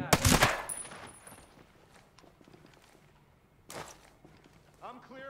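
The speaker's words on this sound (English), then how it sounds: "Enemy troops have opened fire on us" Enemy gunfire in Ghost Recon Breakpoint, a loud close burst at the start and another burst later, separated by quieter footsteps and rustling, with voices speaking.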